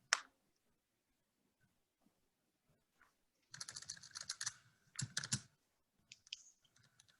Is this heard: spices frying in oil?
no